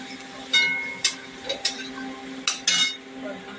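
A metal spoon stirs turmeric in a pan for pithla, making several sharp, separate clinks and scrapes against the pan over a quiet background, with little sizzle.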